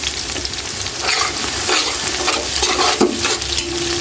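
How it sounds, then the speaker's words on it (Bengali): Onion, bay leaf and chopped garlic fry in a hot pan for beef bhuna khichuri, a steady close sizzle with scraping stir strokes and no talk. "এটা একটু বেজে নেব পেঁয়াজটা"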